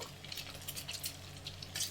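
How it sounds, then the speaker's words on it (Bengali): Eggs fry in hot oil in a kadai for egg curry, giving a steady soft sizzle with light crackles, close and constant with no voices. "বাকি ডিমগুলো আমি ভেজে নেব"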